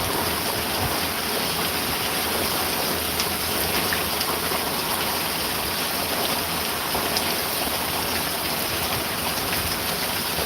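Heavy rain from a major storm pours down steadily with running water rushing nearby, a dense continuous hiss that stays loud and unbroken for the whole stretch with no voices.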